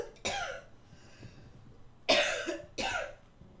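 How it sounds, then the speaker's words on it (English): Three harsh, close coughs from one person, spaced apart with quiet pauses, the later two louder and raspier. "Considering the level of coughing that I'm doing"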